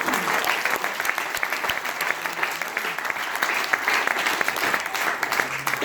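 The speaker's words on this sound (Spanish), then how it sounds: "Denle ese aplauso al Señor." Church congregation breaks into sustained applause during a Spanish-language sermon, a steady, dense clapping that fills the room for several seconds with faint murmurs underneath.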